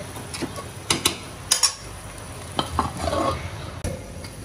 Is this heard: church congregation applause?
no